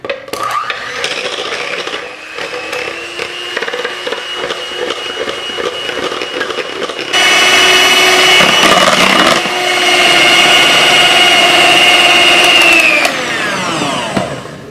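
An electric mixer whipping cream with lemon zest and vanilla, a loud close whirring motor whine that steps up in speed partway through, holds steady, then winds down at the end.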